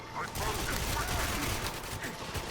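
Video game gunfire in GoldenEye on PS3 comes as dense, continuous bursts of shooting, loud and sustained throughout, with no talk over it.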